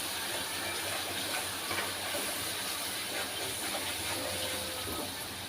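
Water splashes into a pan of masala frying in oil, giving a steady broadband hiss and gushing sizzle that holds evenly for several seconds, close and fairly quiet, with no talking.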